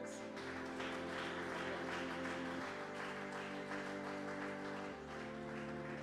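A church congregation applauds the Lord in a dense, sustained wash of clapping that fills the whole stretch, with steady organ-like tones running underneath.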